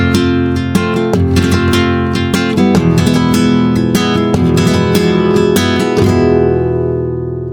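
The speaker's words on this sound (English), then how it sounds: "So let's do a variant on the flamenco rumba pattern." Flamenco guitar playing a variant of the rumba strumming pattern, loud close rasgueado strokes in a driving rhythm with accented percussive hits, ringing out at the end, no voices.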